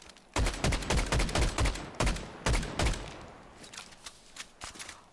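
Rapid bursts of gunfire in the video game Fortnite, a run of sharp closely spaced shots followed by a short pause, another burst, then fainter scattered shots trailing off, with no voices.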